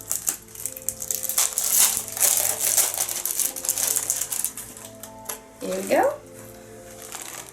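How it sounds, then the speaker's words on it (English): Crinkly plastic wrap being peeled off Universal Studios Halloween Horror Nights merchandise, a close rustling and crackling that comes in waves, with a brief spoken remark partway through. "I'm going to unwrap it, otherwise it's going to be reflective."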